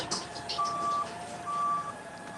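A Kroger delivery truck backing up gives two long, steady reversing beeps about a second apart, over low background traffic and outdoor hum.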